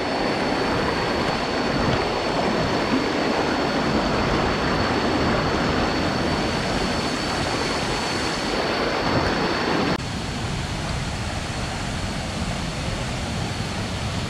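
Waterfall on Koh Chang island in Thailand: a steady, loud, broadband roar of rushing water fills the whole stretch, thinning slightly toward the end.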